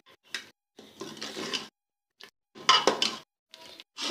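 A spoon stirring tadka through dal in a cooking pot, giving bursts of scraping, clinking and wet stirring separated by short pauses, close and fairly clear.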